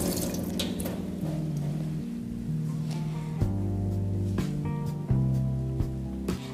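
Water runs from a tap in a house in a steady splashing stream into a basin, with a few clunks and knocks over the flow, close and fairly loud, no talking.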